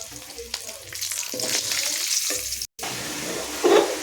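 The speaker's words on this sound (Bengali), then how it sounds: "আলুগুলোকেও ঠিক এইভাবে সুন্দর করে আমি ভেজে নেবো" Potatoes fry in a pan of hot oil, giving a continuous close sizzle and crackle with occasional stirring scrapes, briefly cut off for a moment before resuming.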